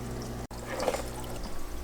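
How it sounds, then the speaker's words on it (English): Water pours during a water change in a baby largemouth bass aquarium, a soft, continuous splashing trickle heard close and fairly quiet, with a brief dropout near the start. "Now for the water change."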